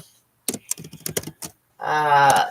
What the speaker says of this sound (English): So I'm typing this as I'm talking.